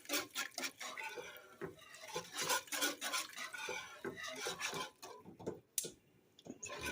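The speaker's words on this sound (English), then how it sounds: "Stir it up a little bit." A spoon scrapes and stirs boxed mac and cheese in a pot, giving repeated close rasping and rubbing strokes in an uneven rhythm that stop near the end.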